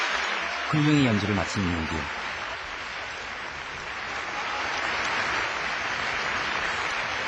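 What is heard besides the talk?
standing ovation applause for Korean youth orchestra in Spain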